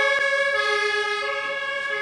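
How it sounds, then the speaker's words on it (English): A steady, loud ambulance siren holds throughout, close by with a continuous wail, at a Christmas market in Berlin after a truck attack. "actually an ambulance."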